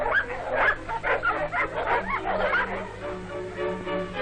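Small mongrel dogs trained for military mine detection bark and yip repeatedly in a quick, uneven series, fairly close, with whimpering tones fading toward the end.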